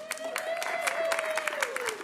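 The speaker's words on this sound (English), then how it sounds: "Please give an applause for" Audience applause for a co-op manager joining a food justice panel at a college, dense steady clapping filling the room at moderate level with a sustained tone and some voices mixed underneath.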